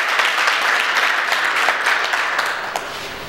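Audience applause at a solar-energy certificate ceremony in Thiès, a steady wash of many hands clapping that holds fairly even for about three seconds and eases slightly near the end.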